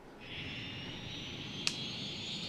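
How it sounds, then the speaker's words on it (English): Airliner taking off from a flooding airport in Cities: Skylines, heard as a steady jet-engine whine and broadband roar throughout, with one brief sharp click near the middle. "Will the plane make it out in time?"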